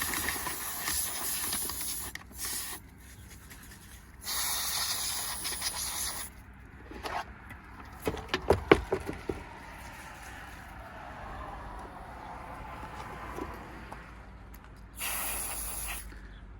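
Canned air sprayed to blow dust out of hardware, several sharp hissing bursts of varying length separated by quiet gaps, close and fairly loud, with a few clattering knocks in the middle.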